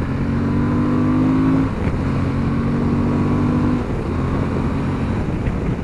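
Engine of a 2021 Suzuki V-Strom 1050 XT motorcycle pulling hard, a loud steady drone whose pitch climbs through the gears, with short dips at the shifts and wind rush.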